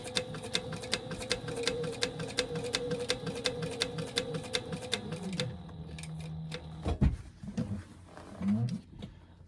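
A sewing machine runs a 1/8 inch top stitch on a tote bag, with rapid regular needle clicks and a motor whine for about five seconds, then slowing and stopping among scattered handling knocks.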